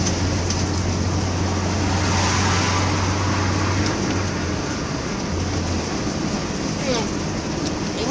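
Steady broadband rumble of a moving camper van's road noise, loud and continuous, with a low engine drone under it and faint voices in the cabin.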